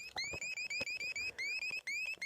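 A pocket radio with low batteries emits a string of about seven short rising chirp-beeps, each a bright electronic sweep separated by brief gaps in a steady rhythm.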